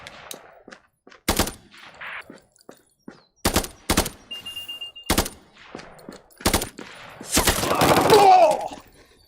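Gunfire in the VR shooter Contractors: sharp single shots and short bursts go off in irregular clusters, loud and close, ending in a denser volley mixed with game effects.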